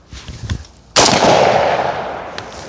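A single loud, close AK rifle shot fired into a tree stump, a sharp crack followed by a long echoing decay, with faint quieter sounds before it.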